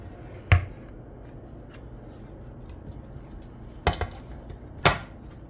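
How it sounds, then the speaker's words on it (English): A baked Christmas fruit cake is taken out of its metal baking tin, with three sharp metallic clanks, one early and two close together near the end, over a quiet background. "I will be taking it out now from the tin"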